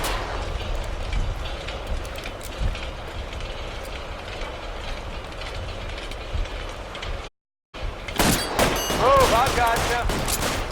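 A shootout in the video game L.A. Noire fills the scene with dense, rapid gunfire: sharp overlapping shots and bursts, a short moment of silence, then more heavy firing.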